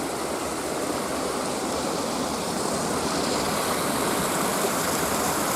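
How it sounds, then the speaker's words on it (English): Water pours through a sluice into a small waterfall feeding the Dorset Stour, a steady, loud broadband rush close by, with no voices. "And down there to make a little waterfall"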